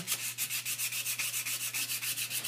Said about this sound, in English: put it on the shaft and evenly just sand the shaft down